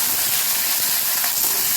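Washed potato pieces frying in hot mustard oil with nigella seeds and cumin, a steady, close, even sizzle with a bright hiss that holds unbroken throughout, with no voices.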